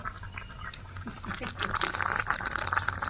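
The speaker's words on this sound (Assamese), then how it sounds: "একদম ফকফকে উতলি আছে" Chunks of meat, chicken, boil vigorously inside a bamboo tube over a fire, giving a steady, dense bubbling and crackling hiss that builds slightly louder toward the end.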